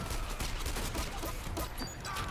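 Rapid gunfire from a gun in the first-person shooter Dirty Bomb, a dense, loud stream of shots and impacts filling the whole stretch with no pause.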